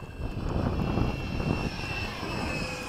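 A Freewing 70mm F-35 RC model jet flies past with a steady, moderately loud ducted-fan whine and a rushing roar that swells slightly, then holds, with no talking.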